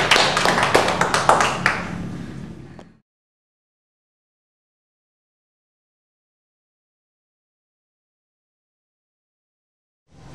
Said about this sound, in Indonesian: kita beri aplaus untuk kelompok 1 yang sudah berhasil